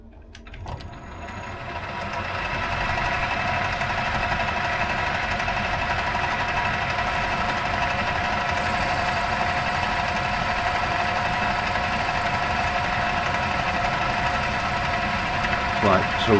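A metal lathe runs a fine cutting pass while turning a toolholder, a steady mechanical hum and drone with a high whine above it, continuous and moderately loud after starting up.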